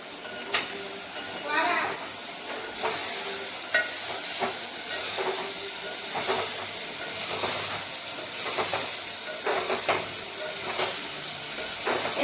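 Potatoes go into a pan of frying chicken curry masala and sizzle steadily up close, with a hissing bed broken by repeated scraping stir strokes, a voice talking over it at times.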